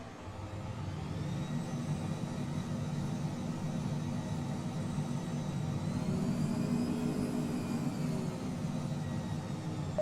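Steady jet engine whine from a Phenom 100 taxiing in Microsoft Flight Simulator, a continuous droning hum with a slight pitch rise midway, alone and unbroken.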